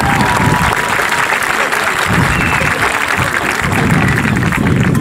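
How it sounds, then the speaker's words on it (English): A large crowd at a 2018 high school graduation ceremony in Woodland, California claps loudly and continuously, a thick wash of applause with faint crowd murmur beneath. "I want a round of applause for them."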